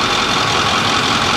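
A Ford F350 with the 6.4L diesel engine, being checked for a misfire, runs loud and close in a dense, steady idle with a rough, knocking clatter.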